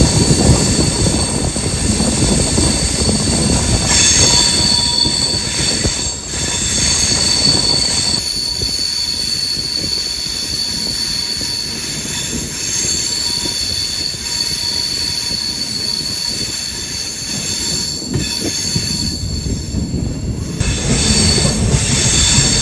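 An LHB-coached Gurudev Express rolls into Kollam Junction station, with loud, steady wheel rumble and squealing rail noise running throughout, swelling again near the end.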